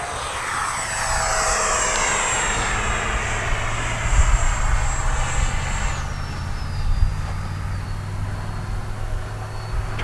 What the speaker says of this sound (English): All right, we're going to bring the plane by low.